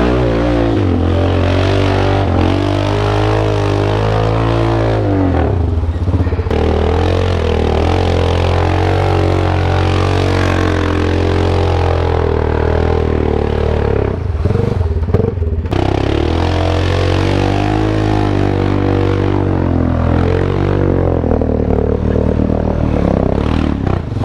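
A new four-wheeler ATV engine revs and strains continuously while mudding, loud and close, its pitch rising and falling with throttle over clattering and scraping, with no talking.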